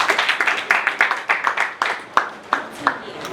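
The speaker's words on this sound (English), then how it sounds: "A round of applause for her again." Several hands clapping in an even, steady rhythm at a conference session, close and fairly loud, sounding like a small group applauding with no other sound over it.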